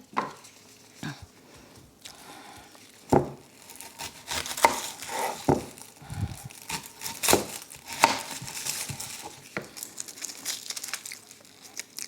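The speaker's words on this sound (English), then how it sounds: "when I chop onion" Sweet onions chopped for chili on a cutting board by a cook wearing disposable gloves; sharp knife strikes come in uneven bursts with crinkly, crisp cuts, close and fairly quiet, with no talking.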